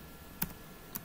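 Two separate keystrokes on a computer keyboard while a command is entered in a Kali Linux terminal, crisp clicks spaced about half a second apart over a quiet background.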